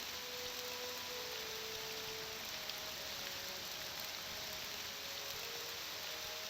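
Steady rain falls in the game Tamriel Rebuilt, an even, dense hiss holding throughout without gaps, with faint tonal hums in the background and no voices.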